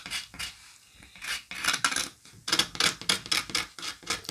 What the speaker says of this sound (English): I just want to make sure any sort of loose bits have been sort of scraped off first of all